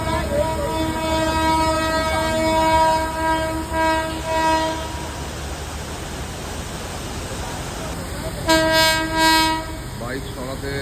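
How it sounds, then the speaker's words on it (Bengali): Train horn blares in long sustained blasts as a train approaches a busy rail crossing where vehicles are parked, pausing mid-clip under rumbling rail noise, then sounding again in sharp repeated toots. "একটা ভালো ভিডিও ট্রেন আসছে হর্ন মারতে মারতে"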